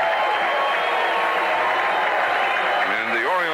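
A Chicago ballpark crowd applauds and cheers after the Orioles win a 1988 baseball game, a dense, steady roar of clapping and crowd noise filling the whole stretch, with a voice briefly rising over it near the end.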